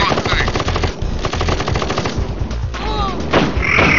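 Machine-gun fire rattles loudly and continuously in KKND as a camp gets shot up, with rapid rhythmic bursts layered over explosions and battlefield clamor.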